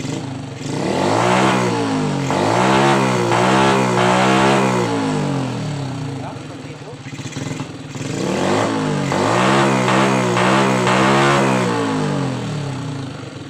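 Older carbureted motorcycle lacking top-end power, revved twice in long swelling pulls that rise and fall, sounding strained and heavy under throttle, close and loud with no talk.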